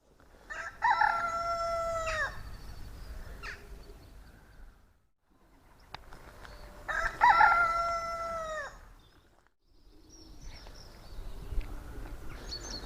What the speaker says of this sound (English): That's a cockerel.